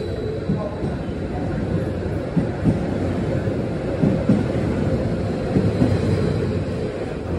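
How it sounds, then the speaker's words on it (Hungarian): A train's low, steady rumble as it pulls away from a station platform in Győr, Hungary, with rattling carriages and wind buffeting the microphone throughout. "elindul innen a vonat"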